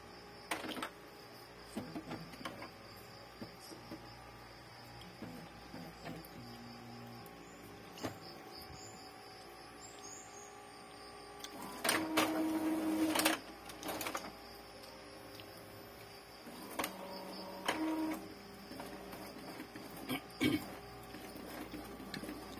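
An Epson L3210 inkjet printer runs a nozzle check after head cleaning in a quiet room, making faint intermittent whirs and clicks, with a louder mechanical burst midway and shorter ones later.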